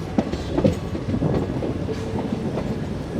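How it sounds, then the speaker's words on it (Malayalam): The 22652 Chennai Superfast pulls into Palakkad Town station, heard from aboard a First AC coach as a steady rumble with rhythmic clickety-clack of wheels over rail joints and occasional faint squeals. "നമ്മൾ ജസ്റ്റ് പാലക്കാട് ടൗൺ സ്റ്റേഷനിലേക്ക് കയറാൻ പോകുന്നു."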